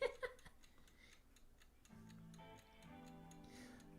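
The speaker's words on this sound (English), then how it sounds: "that is what we call a kitchen timer." A kitchen timer ticking in a regular quick rhythm, close and fairly quiet, with a low tonal hum entering partway through.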